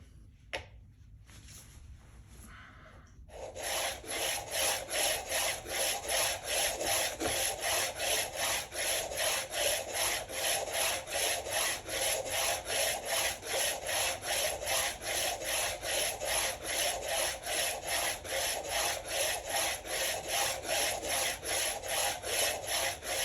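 Speed skate blade being sharpened by hand, a fast, steady back-and-forth rasping stroke that repeats evenly for about twenty seconds after a brief quiet start, close and clear with no talk.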